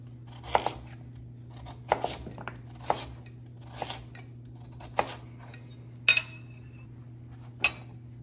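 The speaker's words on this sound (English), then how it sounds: "I like to cut my vegetables into larger chunks" A knife cuts vegetables into large chunks for a Caribbean escovitch sauce, giving sharp, quiet knocks on a cutting board about once a second over a steady low hum.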